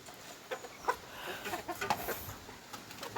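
Soft, scattered clucks from a few country chickens, irregular and fairly close, over a faint background hiss with no talking.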